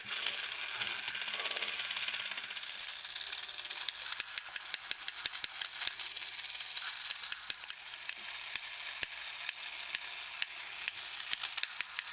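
The gearbox noise maker of a TOMY Space Turbo toy spins with a fast mechanical whir and ratcheting clicks, close and fairly quiet, with sharper clicks growing more frequent as it runs.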